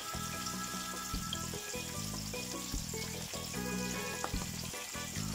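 Floured cod frying skin side down in hot oil in a pan, a steady faint crackling sizzle with soft repeated clicks and clatter, no voices.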